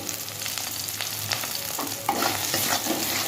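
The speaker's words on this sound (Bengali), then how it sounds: "আলুটাকেও ভেজে নিচ্ছি পেঁয়াজের সাথে এরপর আদা বাটা দিয়ে দিলাম" Potatoes frying in a pan with onion and ginger paste, a loud continuous sizzle broken by stirring scrapes that grow busier toward the end, heard close with no talk.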